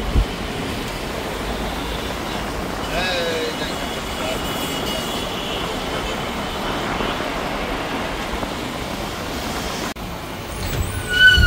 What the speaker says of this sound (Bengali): 8:30 না বাজতেই ঢাকার ব্যস্ততা শুরু হয়ে গেছে। ট্রেন, বাস, অটো, সিএনজি সব এক জায়গায়।